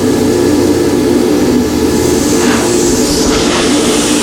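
A Yes Welder 65DS plasma cutter slices through metal at 35 amps, giving off a loud, steady roaring hiss that holds unbroken from start to finish.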